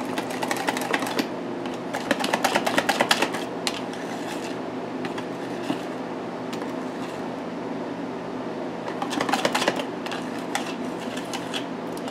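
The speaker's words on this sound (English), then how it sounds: "Get our trusty little whisk out. And just whisk it up." A small whisk beats ranch dressing in a bowl with fast, rhythmic metallic clicking, busiest in bursts at the start and end, heard close up with no talking.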